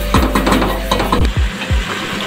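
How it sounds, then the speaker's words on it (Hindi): Minced meat frying with onions in a pan, a steady close sizzle broken by several scraping stirs of a spoon or spatula, no talking. "और कीमे को हम प्याज के साथ भूनेंगे।"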